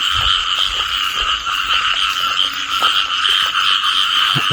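Mating frogs croak in a dense, loud chorus after the first heavy rain in a village. Rapid, overlapping pulsed calls repeat close by without pause, with no talking.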